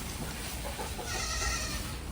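Goats bleat amid a noisy, crowded pen, calls overlapping with rustling and shuffling close by.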